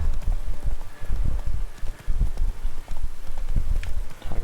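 Roach the horse gallops in The Witcher 3, a steady rapid drumming of hoofbeats close up and loud throughout, with no talk heard.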